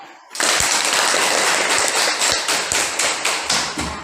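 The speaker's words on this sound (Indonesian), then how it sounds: "Kita beri aplaus dulu kepada kelompok 1 yang telah mempresentasikan hasil diskusi mereka." A classroom audience of students applauds after a group's biology discussion presentation, a sudden burst of dense, loud clapping that holds steady for several seconds with a few sharper claps and thumps before it starts to thin out.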